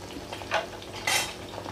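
Mutton pakoda frying in oil and being turned, with a soft continuous sizzle broken by two brief scraping clinks of a ladle against the pan, close and fairly quiet.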